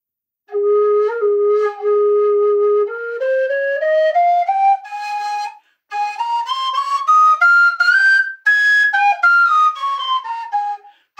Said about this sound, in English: The carbon fiber whistle.